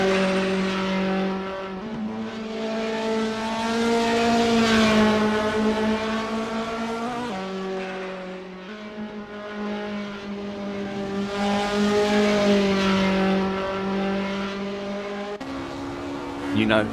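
A TCL BMW 2002 touring car races around a circuit in Assetto Corsa, its engine droning and revving steadily through gear changes, rising and falling in pitch, with a voice talking over it throughout.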